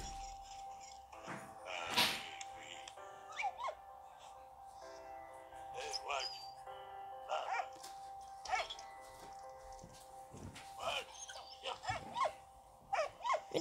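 A dog in the war video game Valiant Hearts: The Great War gives several short barks and yelps at intervals over quiet game music, fairly faint and spread across the scene.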